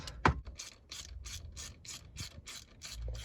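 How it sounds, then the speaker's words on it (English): A ratchet on a long extension with a 13mm socket backs out bolts while installing a short-throw shifter on a Foxbody Mustang, making a steady series of about nine close, crisp clicking bursts after a sharp initial knock. "So now with the long extension, to end the 13mm socket, take the 4 bolts off."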